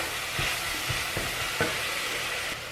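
Venison meat sautéing in a pan over medium-high heat, a continuous close sizzle with soft scraping stir strokes at irregular intervals.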